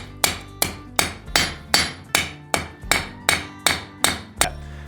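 Hammer strikes forging iron for an 18th-century trivet ring out in a steady run of about ten sharp, loud metallic blows, each with a short ringing decay, no voices present.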